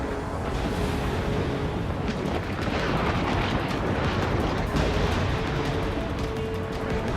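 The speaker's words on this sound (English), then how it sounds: "Launching missile." Missile launch and explosion in the Ace Combat 7 jet combat video game: a sustained, loud roar of rocket thrust and blast noise fills the whole stretch, steady and dense without pauses.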